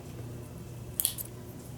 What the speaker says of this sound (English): I'm going to trim off the joining